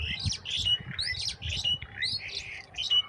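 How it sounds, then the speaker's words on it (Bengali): Birds by a lake chirping in quick repeated bursts of high twittering, moderately close, over a low background rumble of outdoor ambience. "সুন্দর পাখির আওয়াজ দেখছেন,"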